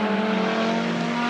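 GT race car on the Barcelona circuit passes with a loud, steady engine roar held at a high pitch, close and continuous, with no talk.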